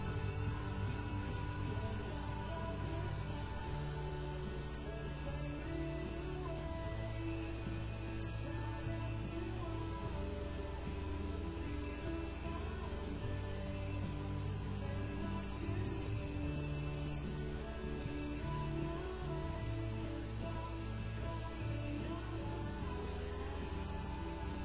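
A guitar plays the chorus chords of a song, a steady, dense strummed progression that keeps on at a low even level throughout, with no talk.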